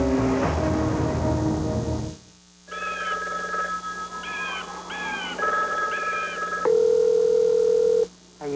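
A telephone is dialed: a burst of noise gives way to a steady dial tone, then a quick run of touch-tone beeps and a held tone, all fairly quiet with a short gap of silence between.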